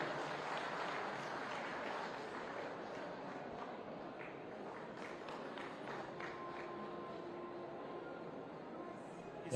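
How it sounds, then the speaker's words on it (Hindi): A crowd claps at the Varian Edge machine launch at a hospital, a continuous, moderately distant roar of applause that stays even before ending abruptly. "आप सभी एक बार जोरदार तालियां हो जाएं।"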